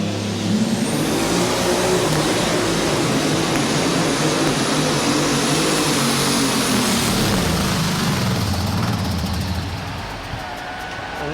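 Alcohol-burning super stock pulling tractor in the 8000 class at a Louisville, Kentucky tractor pull roars at full power without letup, a loud, dense, continuous engine howl that holds steady and eases slightly at the end.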